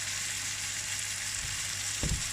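Indian-style chicken sauce sizzles steadily in a pan, a loud close hiss with a short burst near the end as liquid or a stir hits the heat.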